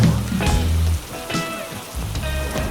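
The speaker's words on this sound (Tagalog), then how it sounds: "Right now nagsisimula ng umulan and konti-konti siyang lumalakas." Rain falls in Singapore near Merlion Park as a close, dense patter on surfaces, with a few heavier splashing bursts over a steady wash.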